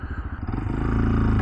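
A CFMoto Papio minibike engine revs up while climbing a hill, its loud, close, rising drone growing steadier over a second and a half.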